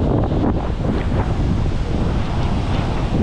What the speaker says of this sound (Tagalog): Ang malakas dito hangin.